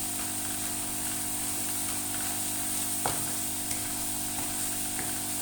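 Masala sizzling in ghee in a pan for a potato and egg gravy, a steady close frying hiss with faint stirring clicks and a couple of small pops, no voices.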